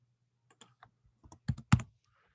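Computer keyboard typing while working in SketchUp drawing software: a few light, sparse key taps followed by two louder, sharper strokes near the end, close to the microphone and with no talking.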